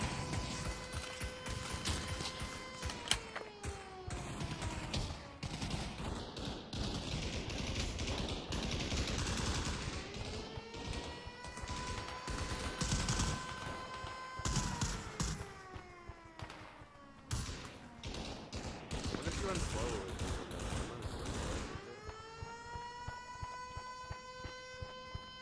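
Gunfire in Pavlov VR on the Tunisia map during a push: repeated sharp shots and rapid bursts crackle over droning, wavering tones and game ambience, fairly quiet overall with no clear talk.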